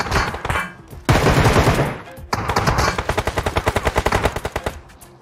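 Bursts of automatic gunfire crack through a mobile battle-royale shootout, a dense sustained volley followed by a rapid rhythmic string of close, loud shots.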